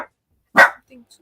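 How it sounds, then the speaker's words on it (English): A pet dog gives one sharp, close bark amid quiet, followed by a couple of faint softer sounds. "That's my dog, Biscuit."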